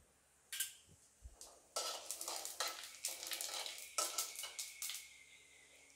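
A small amount of cumin added to hot oil in a pan on low heat, a soft sizzle that bursts up after a quiet start, with stirring scrapes and light metallic spoon clinks, no talking.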